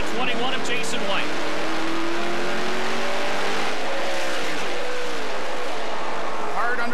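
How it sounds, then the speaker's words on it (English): Onboard a stock car racing at speed on the Trois-Rivières street circuit, engine droning loudly and steadily with rising and falling pitch as gears change, while a commentator talks over it. "as we ride on board the 21 of Jason White"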